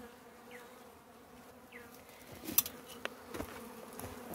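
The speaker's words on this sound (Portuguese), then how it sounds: "Cheio de abelha ali em cima, Zé." Italian honey bees buzz around an opened hive during a honey harvest. The low, steady hum is faint and sits under light handling clicks and rustles, with no talk.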